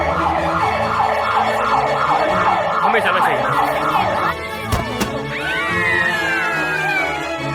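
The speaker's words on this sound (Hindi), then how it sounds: "क्या वो साइरन है?" A loud emergency siren wails in fast repeating cycles, then breaks into rising and falling sweeps after a brief thump, while a person speaks briefly over it.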